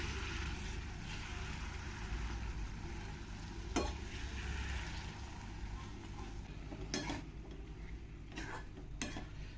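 Masala okra being stirred and mixed in a pan with a spatula, soft scraping and gentle sizzling under a low steady hiss, with a few sharper clinks of utensil against the pan.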